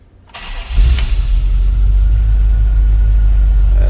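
A 1985 Chevrolet C10 pickup cranks briefly and fires up, settling into a loud, steady low rumbling idle close by with no talking.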